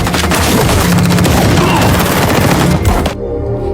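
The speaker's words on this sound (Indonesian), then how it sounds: "terjadilah aksi tembak-tembakan" Dense, loud gunfire from a shootout in an action film, continuous overlapping shots and booms filling the scene before cutting off abruptly near the end to a quieter, hollow tail.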